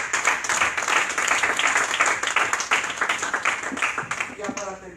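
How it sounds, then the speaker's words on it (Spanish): Church congregation clapping together during a sermon, dense rhythmic applause with a preacher's voice carrying over it, tapering off toward the end. "Aplaudas al Señor de la gloria"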